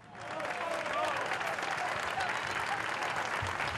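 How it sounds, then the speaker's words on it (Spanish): Citizens in Cádiz applaud as a National Police unit departs for Catalonia, a broad, continuous roll of clapping from a sizeable crowd that swells in and holds steady. "Aplausos y banderas de España en la despedida ciudadana al operativo de Policía Nacional de Cádiz"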